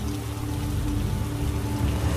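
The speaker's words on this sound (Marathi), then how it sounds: "हा पाऊस काही थांबणारा नाही वाटत." Steady, dense rain pours continuously, a broad hiss of drops on surfaces with a low rumbling undertone throughout.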